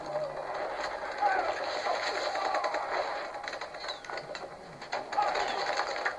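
Automatic gunfire from Call of Duty: Advanced Warfare crackles in dense, continuous bursts throughout, mixed with game effects and a voice talking over the action.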